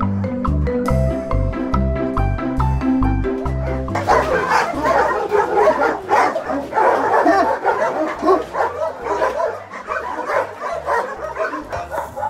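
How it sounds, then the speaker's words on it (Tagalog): Dogs in a training area yapping and barking repeatedly, close and fairly loud, mixed with other commotion after a stretch of background music. "Puro aso talaga."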